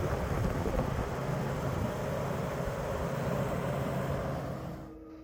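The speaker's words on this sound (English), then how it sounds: "This is the sound of the pump." Foghashing C2 immersion cooling kit pump running about two feet away, a steady broadband hum and whir with a low tone, fairly quiet, fading out at the end.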